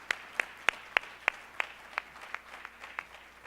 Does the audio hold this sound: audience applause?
yes